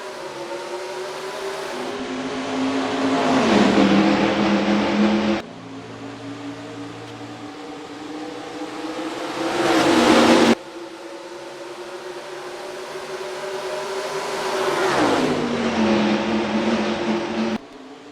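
Stock cars in the NASCAR Racing 2003 video game roar away at the start of a race at Rockingham, engines droning and rising in pitch in three repeated surges as they accelerate, loud and close.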